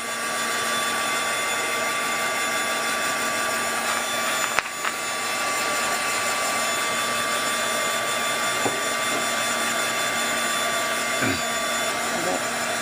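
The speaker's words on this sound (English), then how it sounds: "Between that shaking and this crazy heat gun" A heat gun blows hot air in a steady, loud, continuous whoosh while drying a mixed media craft background, with a few faint clicks and knocks underneath.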